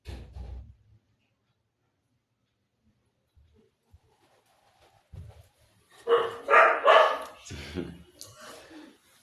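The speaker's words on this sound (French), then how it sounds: "le chien là-dehors, qui le provoque" A dog barking outside during an outdoor revival assembly in Ndiengdam, with a few sharp barks and yips bunched near the end after mostly quiet stretches and scattered low thumps.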